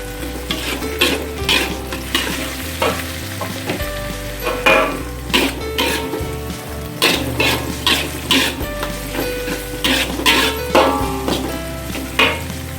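Kwetiau goreng, flat rice noodles stir-fried in a hot pan with soy sauce and fish sauce, sizzles steadily and loudly up close while a utensil scrapes and tosses in a repeating rhythm, without speech.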